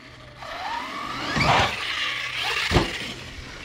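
Arrma RC car hitting a bigger jump ramp: the electric motor whines and rises in pitch, then comes a thump on landing and another sharp knock, heard from a short distance.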